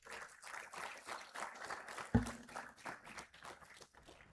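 Faint, distant applause from a graduation ceremony audience at the CCLCS 2025 graduation, with one sharp thump partway through.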